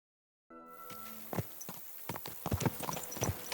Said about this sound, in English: Give me my horse.